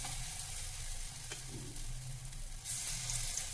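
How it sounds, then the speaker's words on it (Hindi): Semolina and black chickpea appe batter sizzles steadily in an appe pan, a continuous close frying hiss with faint clatter and no talking. "अब हम इसमें अपने 1 चम्मच अप्पे ऐड कर देते हैं।"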